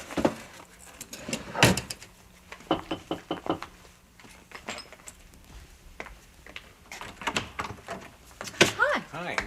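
Sharp knocks rap on a door, a couple of distinct hits followed by scattered thuds and handling noises, with people talking around them indoors.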